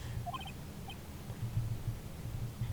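Short, high chirping bird calls from an Ace Attorney video game, a few quick pips over a low hum, with the chirps brief and moderately faint.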